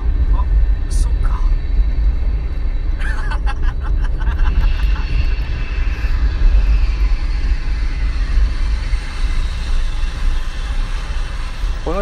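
A steady, droning rumble from an airplane overhead continues throughout, with a few faint clicks and noises on top.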